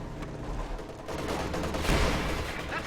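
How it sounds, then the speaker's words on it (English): Katyusha rocket launcher salvo in Company of Heroes 2, a dense continuous roar of rapid launches and blasts building to a louder surge near the end, with battlefield gunfire mixed in. "Katyusha firing again. Firing on the MG42 again."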